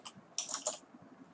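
Typing on a computer keyboard gives a short burst of several crisp, close key clicks in a quick, uneven rhythm, with fainter taps trailing off afterward.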